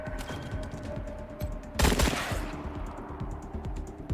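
Gunfire in a Wasteland 3 ambush: an ongoing low rattle of shots, then a sharp loud burst near the middle, fading back to scattered fire with no talk.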